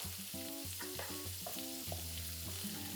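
Louisiana hot link sausage, medium to mild, browns in a pan with a steady close sizzle and frying hiss, stirred along without pause and with no voices.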